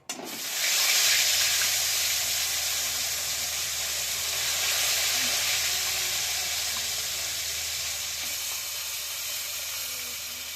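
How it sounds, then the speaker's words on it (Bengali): Koi fish sizzling in hot oil in a kadai, a steady broad hiss of frying that holds loud and even throughout with no talk. "আর মাছগুলো দিয়ে দিচ্ছি গরম তেলে।"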